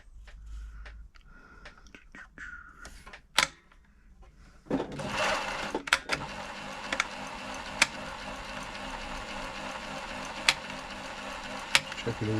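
A Silver/Pfaff 1139 sewing machine runs in a steady stitching whir after a few quiet clicks and handling noises, with periodic sharp ticks as it sews a zigzag stitch.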